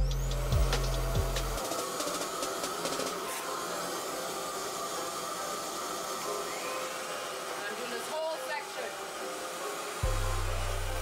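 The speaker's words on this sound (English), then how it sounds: "I'm just going to go in on wet hair because I want to see what this blow dryer do for me" Revair hair dryer on high heat, blowing through wet hair with suction set to level 7, a steady close airy roar with shifting tone as it moves, a low hum starting and stopping near each end, and a voice talking at times.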